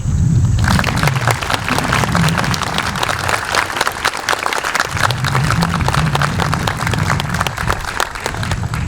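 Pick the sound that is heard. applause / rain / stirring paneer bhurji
applause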